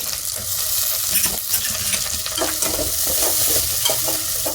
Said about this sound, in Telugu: ఇప్పుడు ఆయిల్ అనేది వేడి అయిపోయింది. దీంట్లో నేను 4 ఉల్లిపాయలు అనేది ముందుగా కట్ చేసి పెట్టుకున్నాను కదా, ఆ ఉల్లిపాయలు కూడా వేసుకుంటున్నాను